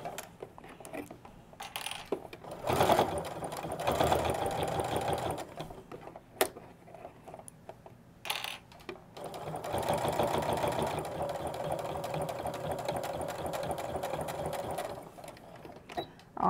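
A sewing machine stitches a narrow seam on nesting bags in two main runs of fast, rhythmic mechanical chatter, separated by quieter handling clicks and fabric noises.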